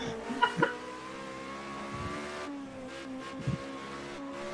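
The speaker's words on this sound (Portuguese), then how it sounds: "Vai, carro, acelera, carro!" Race car engine in the racing game Project Cars 2, a sustained droning tone that shifts in pitch as the car accelerates, with a couple of short bumps and brief squeals.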